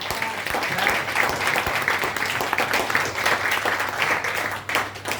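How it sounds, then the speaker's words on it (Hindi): Applause at a product presentation, after a noni juice drink is introduced: a steady wash of clapping from an audience that holds for about five seconds, with a low constant hum underneath. "तालियां हो जाए इसके लिए।"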